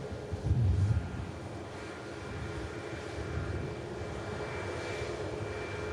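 A Virgin Atlantic Airbus A330 airliner departs from Manchester Airport for Atlanta, its jet engines a steady, distant roar that holds at a moderate level throughout.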